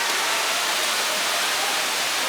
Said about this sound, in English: there's the cool Mystic River Falls waterfall